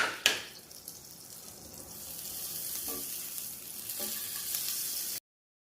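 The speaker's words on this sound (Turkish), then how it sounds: "Şimdi tavamızı altını açtık. Hemen biraz tereyağı atıyoruz içine." Butter sizzles steadily in a hot frying pan heated on the stove for homemade İskender, a continuous close crackling hiss with a couple of faint clinks, no talking.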